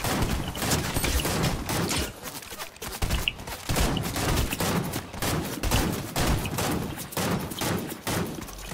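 Gunfire in the video game Fortnite: dense, continuous bursts of rapid shots filling the whole stretch, loud and close, with a brief lull partway through.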